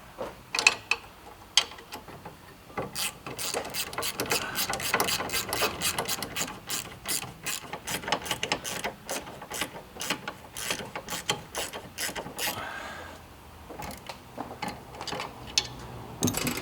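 Ratchet wrench tightening bolts on a car frame during an Evo build, a steady run of rapid metallic clicks close up and loud, with brief pauses between strokes.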